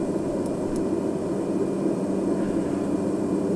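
A small airplane takes off from a bush strip, its engine a steady, loud drone with a low broadband rumble that holds evenly throughout, with no talk over it.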